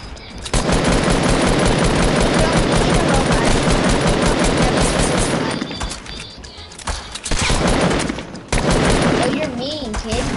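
Loud, rapid video-game gunfire hammers almost nonstop in dense bursts, with short lulls and a voice audible underneath.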